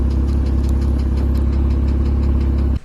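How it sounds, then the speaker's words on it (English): A Porsche Boxster S with a 3.2-liter M96 engine idles loudly and close, a steady deep drone with a faint, rapid intermittent ticking over it, cutting off abruptly at the end. "this engine does have somewhat of an intermittent tick sound that comes and goes."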